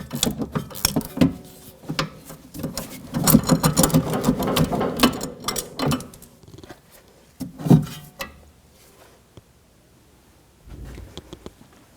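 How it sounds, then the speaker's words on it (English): A ratchet works a sway bar link nut loose on a 2011-2018 Volvo S60, giving close, rapid clicking bursts in several uneven runs separated by short pauses. "you can just basically use like a ratchet style and work that nut right off"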